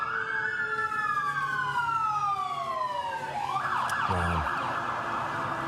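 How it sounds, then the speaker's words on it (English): An ambulance and a fire engine heading west on Broadway during a night of street protests wail with loud, gliding sirens that sweep down and then shift to a new tone, over steady city background noise. "Now we hear the sirens again. This looks like an ambulance and a fire engine coming west on Broadway to 4th Street."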